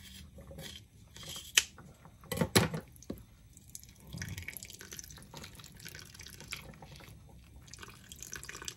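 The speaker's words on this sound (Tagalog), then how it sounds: "Ang tulo." Water drips and trickles at a kitchen sink while milkfish is cleaned, with faint irregular splashes and a few sharp clicks of handling, quiet and close with no speech.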